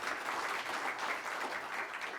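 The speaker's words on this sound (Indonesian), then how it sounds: "Berikan aplaus dulu yang meriah" Sustained, dense applause from a large crowd fills a hall during an Indonesian advocates' swearing-in ceremony in Jakarta, steady and loud throughout with no break.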